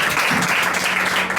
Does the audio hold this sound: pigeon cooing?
no